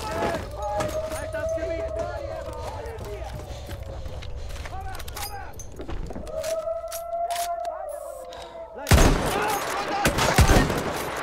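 Gunfire from the World War I shooter game Battlefield 1, with bursts of rapid shots and a louder volley near the end, mixed with game effects and someone talking over the action.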